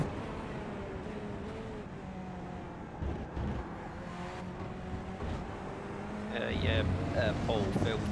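Racing car engine in iRacing during the 24 Hours of Le Mans, a steady droning whine with gear and pitch changes, fairly faint under the ongoing sound, with other cars briefly closing in near the end.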